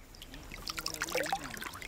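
Fresh water trickles and dribbles near Borroloola in Australia's Northern Territory, a close, bubbly pouring sound with small splashes, heard alone for a couple of seconds.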